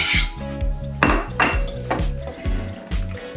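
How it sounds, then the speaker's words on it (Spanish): A fork beats eggs and potato together in a bowl for a Spanish tortilla, producing rapid rhythmic clinking and scraping of metal against dish, close and loud, with no talking. "y mezclamos bien con el tenedor"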